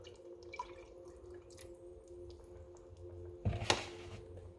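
Water is poured into a pot of simmering tripe curry, a brief splashing gush after soft faint drips and kitchen noise, quiet and close with no talking.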